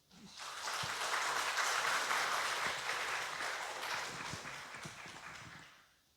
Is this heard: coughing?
no